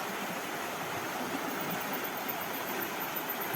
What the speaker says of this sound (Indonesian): Nah, airnya mengalir seperti itu ya guys